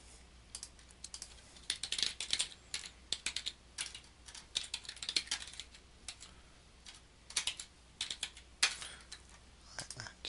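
Quiet typing on a computer keyboard, with bursts of rapid key clicks separated by short pauses, close and fairly soft, no talking.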